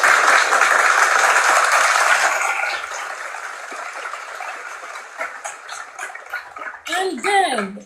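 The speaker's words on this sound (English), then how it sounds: "Let's clap for them." Applause from a webinar audience for students who did well, loud and dense at first, then thinning out into scattered claps, with a voice coming in near the end.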